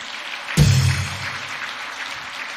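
A church audience breaks into a short burst of applause during a sermon by a pastor speaking about Pastor Jeon Kwang-hoon, starting abruptly, loud at first, then fading over a second or so.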